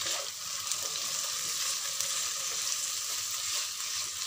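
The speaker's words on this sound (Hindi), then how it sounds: "चिकन को मैं कलर चेंज होने तक पकाऊंगी" Chicken pieces and onions fry in a pan for red sauce pasta, giving a steady, loud hiss of sizzling oil that runs unbroken throughout with no voices.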